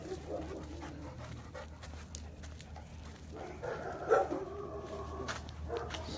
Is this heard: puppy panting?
yes